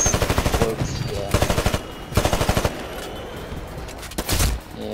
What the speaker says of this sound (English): I got a guy shooting at me